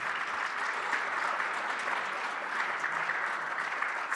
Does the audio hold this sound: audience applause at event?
yes